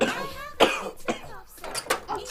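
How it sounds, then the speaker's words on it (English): Several harsh coughs close by, mixed with throat clearing, in uneven bursts with brief pauses between. "Daddy's coughing"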